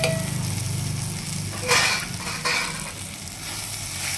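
Onion, tomato and home-ground masala powders fry in a pan for a fish thokku, a close, continuous sizzle with a couple of brief louder bursts of stirring and scraping, and no talking.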